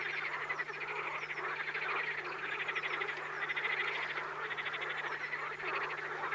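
Dense breeding chorus of frogs across a flooded floodplain in the Volga Delta, with rapid overlapping croaks and trills pulsing steadily and loudly throughout, no voices.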